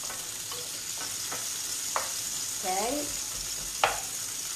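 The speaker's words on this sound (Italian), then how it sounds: "Questo lo facciamo soffriggere di qua, quasi pronti per mettere i pescetti" A pan sizzles steadily as ingredients for mussel and pistachio pasta are sautéed, with occasional stirring scrapes and a speaking voice over the constant frying.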